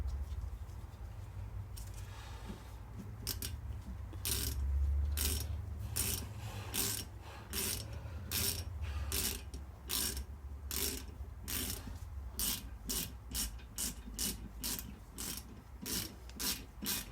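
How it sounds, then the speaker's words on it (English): Torque wrench ratcheting on a CV axle nut of an Acura NSX during a rear axle and brake rebuild, a steady run of sharp, close clicks in quick regular rhythm over a low hum. "Have the torque wrench ready."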